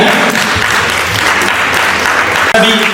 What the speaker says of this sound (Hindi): करेक्ट आंसर, जोरदार तालियां